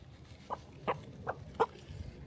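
Chickens pecking at a bird feeder mixture of seed, giving four or five short, soft clucks spaced about every half second over a quiet rustling background.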